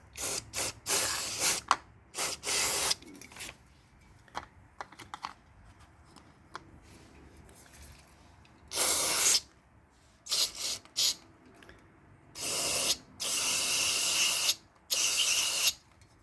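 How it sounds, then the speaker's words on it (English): Sensor cleaner is sprayed onto the mass air flow sensor of a Toyota Camry in several short, sharp hissing bursts separated by quiet pauses, close and loud, with no talking. "there are a couple here inside that need to be sprayed and cleaned with that sensor cleaner"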